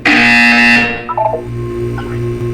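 A loud electronic buzzer in the Portal 2 video game, a harsh tonal blast lasting under a second, followed by short chirping electronic tones over a lingering low hum.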